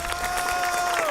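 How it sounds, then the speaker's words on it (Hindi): A reality competition show's studio audience applauds and cheers, a continuous dense wash of clapping under a faint musical tone. "जोरदार तालियां।"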